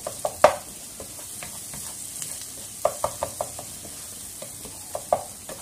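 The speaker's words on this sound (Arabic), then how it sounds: "هاي البصلة ديالي صافي تحمرات بدات طيح" Chopped onion fries in a pan as it turns golden and is stirred, a soft continuous sizzle broken by sharp scraping clicks of the utensil against the pan at irregular intervals, close and with no speech.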